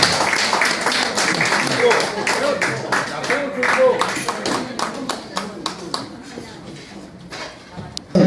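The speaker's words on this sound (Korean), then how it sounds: "뜨거운 박수 한번 주시면 대단히 감사합니다" Audience clapping at a Honam FC football club officers' inauguration ceremony, dense applause fading into scattered claps over about eight seconds, with some voices in the room.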